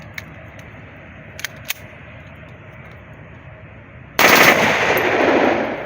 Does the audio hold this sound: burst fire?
yes